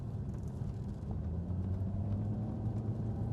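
A 2012 Maserati GT Convertible engine rumbles low and steady while driving, a deep continuous drone with slight swells in level and no talking.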